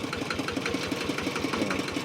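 A farm tractor engine runs close by with a steady, rapid chugging pulse and mechanical knocking, loud and unbroken.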